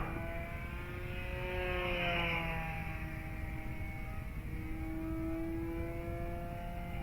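An E-flite Decathlon RC airplane's electric motor whines at full power through a loop, its rising and falling pitch sweeping past at a moderate distance over steady background noise.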